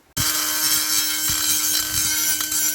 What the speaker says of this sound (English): I'm going to use a die grinder because I have a die grinder.